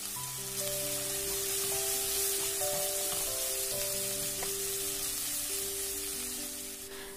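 Salt and finely chopped green chili sautéing in a pan for egg fried rice made from leftover idiyappam, a steady broadband sizzle running throughout under a faint background tone, fading slightly at the end.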